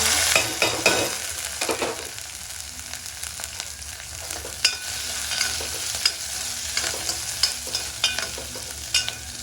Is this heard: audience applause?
no